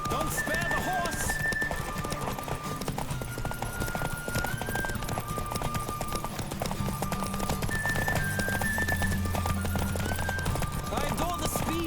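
Galloping horse hooves pound in a steady, fast rhythm during a horse race in The Witcher 3 video game. Occasional neighs rise above the hoofbeats, with game music and voices underneath.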